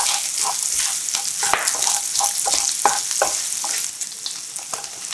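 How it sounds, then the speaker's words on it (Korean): Shishito peppers stir-fried with garlic, a pinch of salt and a spoonful of sugar in a hot pan, giving a steady close sizzle with repeated scraping and clicking strokes of the spatula throughout, no talking. "소금 한 꼬집, 설탕 한 스푼 넣고 달달볶아 간이 배이게 해주세요."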